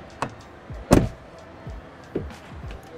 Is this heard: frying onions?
no